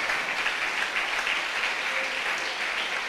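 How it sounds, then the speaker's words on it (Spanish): Short burst of congregation applause in a church service, steady dense clapping throughout with no voices over it. "Tiene un aplauso para Jesús"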